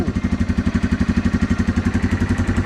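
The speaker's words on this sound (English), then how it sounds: "that was the fastest this bike has ever started" Yamaha TW200 motorcycle single-cylinder engine running right after a quick start, a loud, close, steady low thumping idle with even rapid pulses and no talk.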